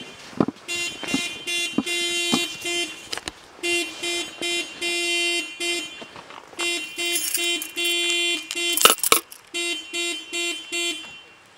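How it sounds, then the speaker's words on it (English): A car alarm blares outdoors near a house after a storm, its loud electronic tones repeating in rapid pulsing bursts with short breaks between cycles. "those alarm things. Nobody listens when they go off."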